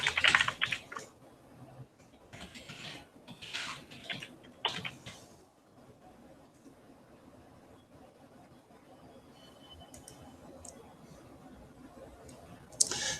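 A password typed on a computer keyboard: quick clusters of close key clicks in the first five seconds, then a quieter stretch with sparse faint taps and low room hum.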